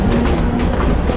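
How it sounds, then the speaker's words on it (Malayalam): A Mumbai local train rumbles loudly at close range, a steady roar with faint clickety-clack from the wheels on the rails, with no voices. "ഇതാണ് ട്രെയിൻ കേട്ടോ"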